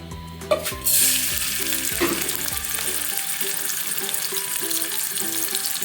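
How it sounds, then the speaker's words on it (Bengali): Shrimp fry in soybean oil with a steady, close sizzle, punctuated early by a few utensil knocks and clinks, then settling into continuous crackling hiss at moderate loudness. "দিয়ে দেবো সয়াবিন তেল তারপর দিয়ে দেবো চিংড়ি মাছ চিংড়ি মাছটা ভালো করে ভেজে নেব"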